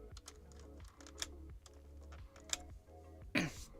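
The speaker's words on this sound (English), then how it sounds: "there's something in my keyboard" Rapid typing on a computer keyboard during a game-development session, with quick uneven bursts of close key clicks and a louder clack near the end, and no voices.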